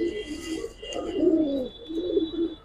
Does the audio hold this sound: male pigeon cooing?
yes